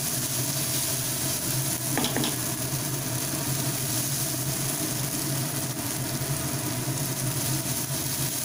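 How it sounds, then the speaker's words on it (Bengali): Egg and brinjal fry in oil in a pan over a gas burner on full flame, giving a steady loud sizzle with a low hum underneath and a brief stir partway through. "এবারে গ্যাসটাকে ফুল ফ্লেমে দিয়ে ভালোভাবে ফ্রাই করে নেব।"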